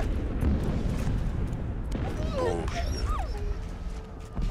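A dog in the WWI video game Valiant Hearts whimpers and yips several times in short rising cries, close and clear over a steady low battlefield rumble.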